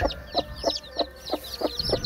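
Newly hatched Bangkok chicken chicks, a fighting-cock breed, cheep in a regular series of about seven short bright peeps, spaced roughly a third of a second apart, close by with no talk.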